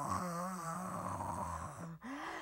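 A storyteller's voice imitates a pig's rumbling snore, a low, continuous, throaty drone that wavers in pitch for a couple of seconds, breaks off briefly, then resumes, close and steady.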